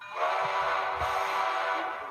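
Train from The Polar Express film pulling away, a steady mid-pitched whistle-like tone over rumbling rail noise, loud and continuous for about two seconds with no talk.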